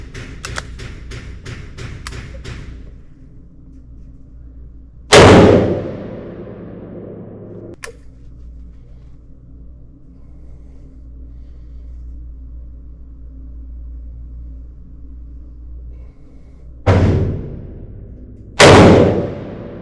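A Rossi Brawler .45LC/.410 handgun fires three loud, sharp gunshots spaced far apart, the last two close together, each with a short decaying boom, after a few quick clicks at the start and long quiet gaps.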